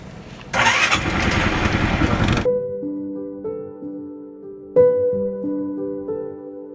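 A homemade Lamborghini replica car's engine cranks on its self-starter for about two seconds, then stops, leaving quieter tonal sounds with a sharp knock; no talking.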